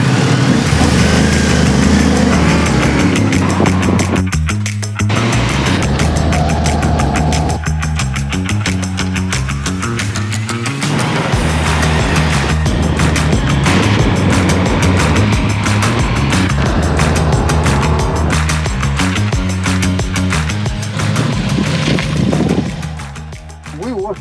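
A Ducati Multistrada V4 S motorcycle being ridden, its engine a loud, continuous drone that rises and falls as the rider shifts and changes throttle, with wind noise throughout and occasional faint voices beneath.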